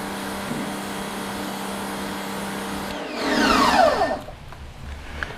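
Water rinses a car wheel coated in a non-acid wheel and tyre cleaner, outdoors in direct sunlight; a steady machine drone runs first, then a louder rushing spray swells midway and fades away, with no voices.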